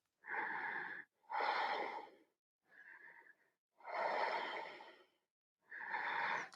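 Slow, deep yoga breaths taken during a twist pose: five long inhales and exhales, a soft airy rush each time with a quieter one in the middle, separated by brief silences and heard close with no talking.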